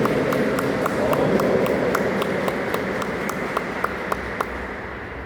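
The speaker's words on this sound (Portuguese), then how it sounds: "E uma salva de palmas aqui para o nosso aniversariante, né?" A cathedral congregation applauds a birthday person after Mass, a steady sustained wash of many hands clapping in a large reverberant space, with faint sharp ticks standing out above it.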